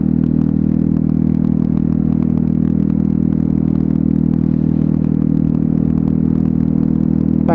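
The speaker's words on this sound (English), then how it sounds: "But so far she is idling lovely." Lexmoto Milano scooter with a new piston, barrel and rings idles steadily, a constant low engine hum with light mechanical clatter, close by and alone, no talk.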